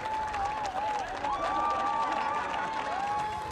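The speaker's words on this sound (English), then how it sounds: "Jesse, the crowd are loving you here." A strongman competition crowd in Poland claps and cheers loudly and without a break, a dense wash of applause with whistle-like tones riding above it.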